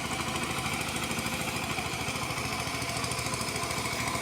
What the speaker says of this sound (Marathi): बघा या शेतामध्ये ट्रॅक्टर लावलेला आहे